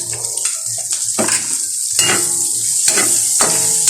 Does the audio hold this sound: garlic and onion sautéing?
yes